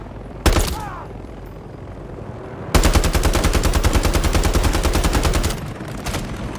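Gunfire in the video game Call of Duty: Modern Warfare III: a single loud shot, then a long sustained rapid automatic burst lasting several seconds, followed by a few more shots, close and loud.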